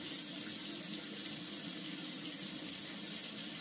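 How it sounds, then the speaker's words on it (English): Hot water running steadily from a tap into a sink, a continuous close hiss and splash with no pauses and no talking. "It's really hot that comes out of this tap."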